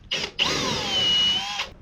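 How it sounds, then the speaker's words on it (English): A power drill bores through hidden metal reinforcing in a Mitsubishi MR Triton roof while a roof rack is being fitted. A brief whine is followed by a longer, steady, high-pitched grinding run, close and loud. "I struggled drilling"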